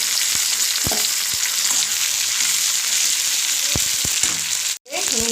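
Tomato and onions fry in a pan with a steady, loud sizzle, broken by a few soft clicks of stirring and a brief dip near the end.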